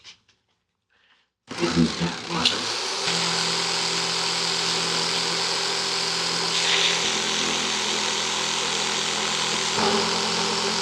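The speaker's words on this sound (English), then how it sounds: "the reason why I'm cutting with a jigsaw, not a skill saw, is because this is curved" A Chicago Electric jigsaw cutting a curved line starts up after a quiet moment and then runs in a continuous buzzing, rasping cut, loud and close, with no voices.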